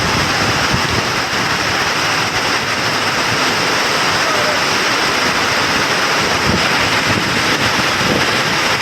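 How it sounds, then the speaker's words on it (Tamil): A dense, continuous roar of heavy rain mixed with buffeting strong wind in Tamil Nadu, loud and unbroken throughout. "பலத்த காற்றுடன் கனமழை பெய்ததால் வெப்பம் தணிந்தது"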